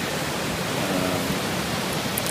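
A flooded Colorado creek rushes past with its banks washing out, a loud, steady broadband roar of turbulent water that holds constant throughout with no voices.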